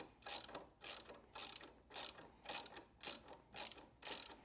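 A ratchet driving a T8 bit on an extension backs out a highway peg bolt on a Honda CTX1300, giving eight evenly spaced bursts of close, crisp clicking with short pauses between, and no voices.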